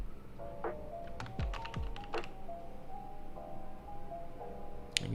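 Typing on a computer keyboard, a quick cluster of close key clicks and a couple of heavier thunks, then quieter room tone and a final sharp tap.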